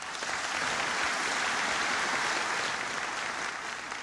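A large crowd breaks into continuous applause during a presidential speech, a dense, even roar of clapping that stays loud and steady from start to finish with no voices over it.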